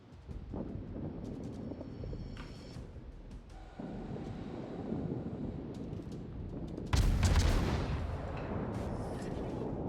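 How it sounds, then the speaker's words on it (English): Naval guns on a warship firing at a cruiser in a naval combat game, heavy rumbling booms under steady engine and sea noise, with one especially loud close blast near the end followed by a long rolling decay. "I'm able to start firing back on the cruiser, but from the safety of my smoke screen"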